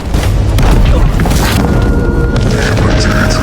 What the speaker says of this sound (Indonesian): Mereka pun melakukan serangan bunuh diri dengan meledakkan diri.